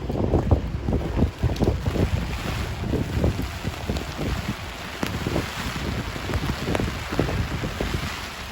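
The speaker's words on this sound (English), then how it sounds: "on a windy and wet winter day" Blustery wind buffets the microphone in steady gusts, with a constant wash of rain-like noise beneath and no voices, on Fleet Street, London, on a winter day.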